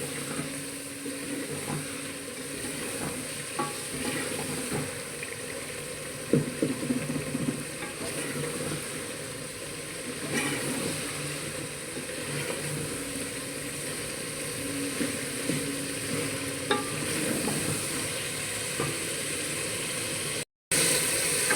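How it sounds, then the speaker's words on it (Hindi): Mutton with a tablespoon of crushed coriander stir-fries in a pan for matar gosht, giving a steady close sizzle and crackle with occasional scraping stir strokes and no talk. "अब यहाँ पे हम इसकी अच्छी तरह भुनाई कर लेंगे।"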